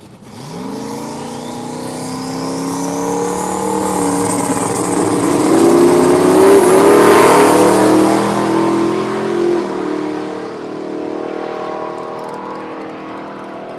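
A drag racing motorcycle screams down the track, its engine note rising steadily in pitch as it accelerates hard, loud and building to a peak before fading away.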